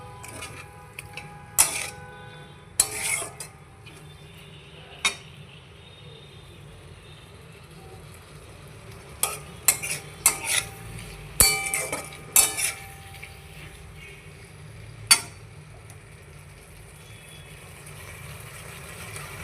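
Bottle gourd with lentil dumplings stir-fried in a pan, heard as scattered metallic clangs and scrapes of a utensil against the pan over a low steady background hum, with several sharp knocks in quick clusters.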